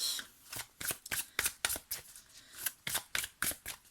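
Tarot cards being shuffled and handled by a card reader, a close, crisp run of riffling and flicking bursts in an irregular rhythm, with no talking over them.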